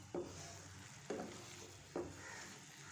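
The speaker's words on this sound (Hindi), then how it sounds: "ये देखिए, इसमें अच्छी तरह से गुड़ मिक्स हो रहा है।" A spoon stirs melting jaggery in a pan over low to medium flame for dry fruit chikki, giving three distinct scraping strokes about a second apart over a faint, steady sizzle.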